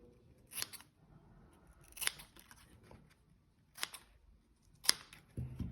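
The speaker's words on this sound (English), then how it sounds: "Might need to trim this back so it'll slip through." Scissors trim a coconut leaf in four or five crisp, close snips spaced a second or so apart, with quiet rustling of the leaf between cuts.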